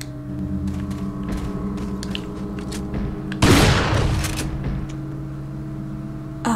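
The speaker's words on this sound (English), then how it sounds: "Shotgun time." Shotgun fire in the video game Resident Evil 4: one loud, booming blast with a short decaying roar over a steady hum of game music and ambience.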